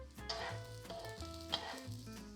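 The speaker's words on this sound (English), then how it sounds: "Next ingredient in are the ones that take the longest to cook. That would be my mushrooms, my carrots." Mushrooms and carrots stir-fry in a hot pan for a shrimp stir fry, sizzling softly and steadily while a utensil scrapes and tosses them in a few distinct strokes.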